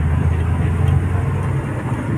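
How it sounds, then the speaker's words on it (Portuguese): A worn, high-mileage Chevrolet Chevette engine runs steadily with a slight mechanical noise, a loud continuous low rumble heard close up with no talking. "Barulho no motor, tem um barulhinho, cara."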